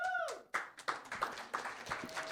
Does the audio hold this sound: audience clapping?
yes